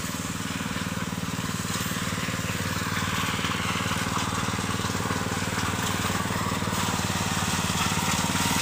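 A rice harvesting machine running in a paddy field during the rice harvest, its engine a loud, continuous mid-pitched drone with a steady mechanical chatter throughout, with no voices over it.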